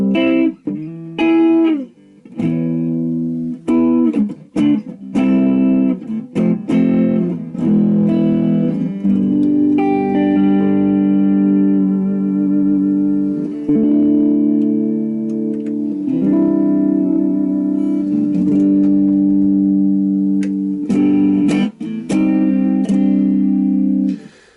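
An electric guitar on a super strat plays through its neck humbucker pickup, ringing sustained chords and notes with sharp picked attacks, loud and close, with no talk.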